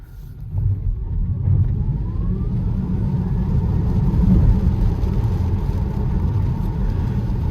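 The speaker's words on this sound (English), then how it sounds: "it's a good chance to do an acceleration from a standing start here" A Tesla Model Y Juniper Performance pulls away hard from a standstill. A steady, loud low rumble and road roar build and hold throughout, with a faint rising electric whine and no talk.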